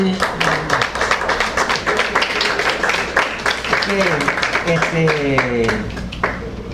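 Applause from a church congregation for Mr. Ramón, a dense wash of clapping running steadily throughout, with a voice and other voices speaking over it.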